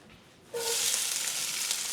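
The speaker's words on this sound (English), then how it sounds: "Ooh, sizzle sounds." Onions and garlic hit a hot pan and a loud, steady sizzle starts abruptly, crackling and hissing continuously with no talking.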